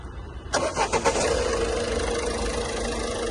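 A Ford Figo's engine cranks briefly and catches, then settles into a steady, close idle with no voices over it.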